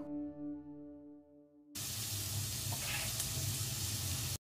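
Boiled green peas and tomato pieces hit a hot pan for veg tandoori pasta, setting off a sudden loud, steady sizzle that runs on after a faint tonal hum.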